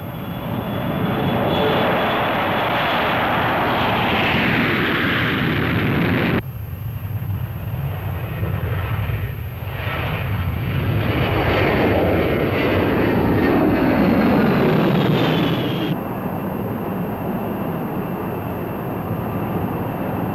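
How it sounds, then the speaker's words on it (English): Military bomber aircraft launching, a loud continuous roar of jet engines swelling and shifting in pitch, with abrupt changes in tone as the sound continues without any talking. "and the aircraft launched."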